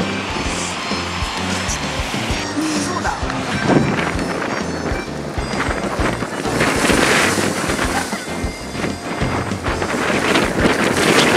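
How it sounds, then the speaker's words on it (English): Strong gusts buffet the microphone on open sand dunes in Tottori, Japan, a loud continuous roar and rumble with surging low-end thumps, steady throughout with no speech over it. "It's so windy and so cold."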